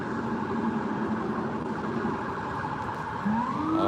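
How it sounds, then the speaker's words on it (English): A police car siren wails through a Manhattan street at night, a steady rising and falling tone over low traffic rumble, growing louder and sweeping upward near the end as it passes. "you guys get to witness some police car passing by"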